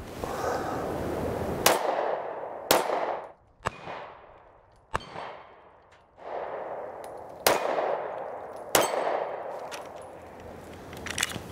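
Ruger LC9S pistol firing 115 grain ammunition, seven sharp, separated shots spread unevenly across the stretch, each followed by a short ringing decay outdoors, with quieter gaps between; no talk.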